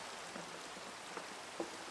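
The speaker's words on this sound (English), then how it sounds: "Oh wait, it's raining." Rain falls in Minecraft running with shaders, a steady, dense hiss of the video game's rainfall with a few faint droplet taps and no talking.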